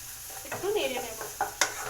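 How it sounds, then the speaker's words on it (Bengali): Egg bhurji is stirred and fried in a wok with a little oil, giving a soft sizzle broken by scraping strokes and a few sharp spatula clinks against the pan. "তো এটা আমি ভালো করে একটু নেড়ে নিচ্ছি কড়াতে।"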